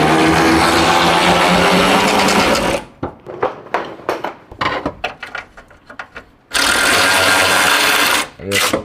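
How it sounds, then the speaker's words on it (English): An electric ratchet whirs loudly and continuously while removing bolts on a 2004 pickup truck, stopping for a stretch of clicks and knocks before spinning up again near the end. "I think I'm gonna use the electric ratchet."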